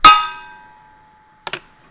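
A wooden spoon strikes a metal pot lid with a loud ringing clang that decays, followed by a quieter double knock a moment later.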